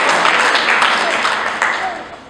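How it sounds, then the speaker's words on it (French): An audience at an evening testimony event claps warmly for a speaker, a dense wash of applause that stays loud and then tapers slightly toward the end, with a voice briefly heard over it. "bravo Saïda, franchement, on peut encore l'applaudir"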